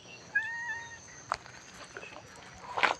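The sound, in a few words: cat meowing at a temple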